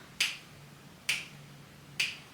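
Three crisp finger snaps spaced evenly about a second apart, close and clear over a quiet background, keeping a steady beat.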